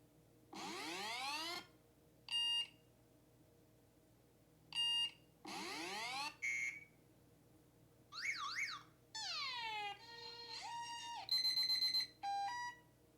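A series of different phone alarm ringtones play one after another, short beeping and chirping patterns with pauses between each, clear and isolated.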